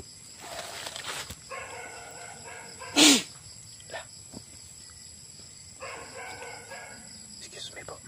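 Pet dogs bark with drawn-out, wavering calls from a distance, punctuated by one sharp, loud bark nearby.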